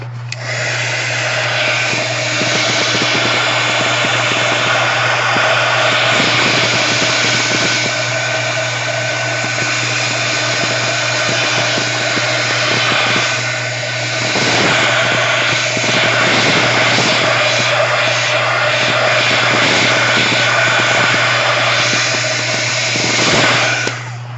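A hair dryer drying a craft project blows loudly and steadily up close, its airflow whooshing with a constant hum and small shifts as it moves around.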